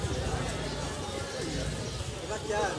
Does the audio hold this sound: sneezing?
no